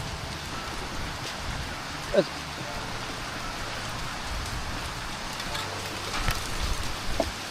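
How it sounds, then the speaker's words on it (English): Hail falls steadily outdoors during a hailstorm, a dense continuous patter with a few sharper impacts, while people talk over it. "Look at the size of the hail."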